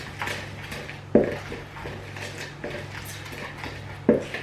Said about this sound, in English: just mix it together